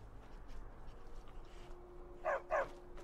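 Two sharp dog barks in quick succession in the Skyrim video game, moderately loud after a quiet stretch with faint low background sounds.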